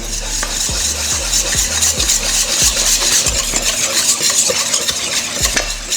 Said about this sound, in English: Now we're just gonna whisk that all together.